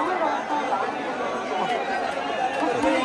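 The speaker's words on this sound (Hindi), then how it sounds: "खड़ा भी नहीं हो जा रहा, इतनी भीड़ है।" A dense Holi crowd packs the Banke Bihari temple in Vrindavan, a close, continuous din of many overlapping voices chattering and calling out without pause.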